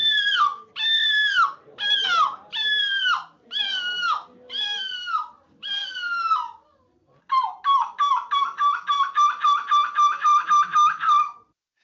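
A person imitates seagull screeching in a screeching championship, giving a series of loud, drawn-out wailing cries and then a fast run of short, staccato yelps.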